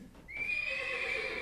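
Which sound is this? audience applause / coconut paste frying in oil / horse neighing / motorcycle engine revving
horse neighing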